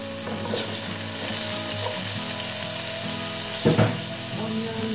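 Octopus frying with sweet potato and onion sizzles steadily in hot oil in a pan, close and continuous, with brief scraping stirs near the end.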